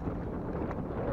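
Wind gusting across Lake Scugog while bass fishing from a boat, buffeting the microphone as a continuous low roar for a moment with no one speaking.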